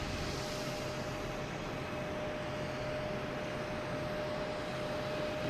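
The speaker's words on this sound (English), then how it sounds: "We have a JetBlue taking off" A JetBlue airliner takes off at Boston Logan Airport, heard as a steady, distant wash of jet engine roar with a faint constant whine, even in level and without voices.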